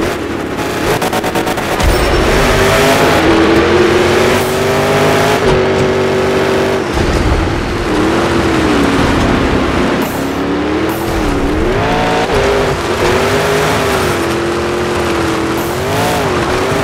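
Monster truck engines in a Monster Jam Showdown video game sand race on Death Valley terrain, a loud continuous roar with rising and falling revs and gear shifts throughout, no speech.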